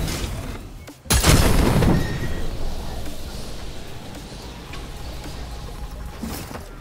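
A sudden loud boom as a cannon in Fortnite launches the player, followed by a rushing whoosh that gradually fades into steady wind-like noise as the player flies through the air.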